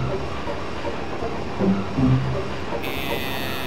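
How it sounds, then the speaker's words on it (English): Train rumbling and rattling as it departs in Final Fantasy 8, a steady low mechanical drone with a few brief clunks and a buzzing tone joining near the end. "Train bound for the desert is departing."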